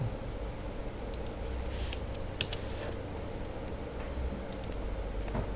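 Keys tapped on a computer keyboard while working in Photoshop: soft, sparse clicks, one sharper press standing out midway, over a steady low room hum.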